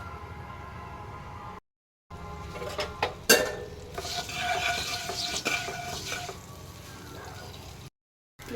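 Two bay leaves drop into hot oil with asafoetida for vegetarian aloo dum, giving a steady close sizzle broken by a sharp metallic clink and spoon scraping.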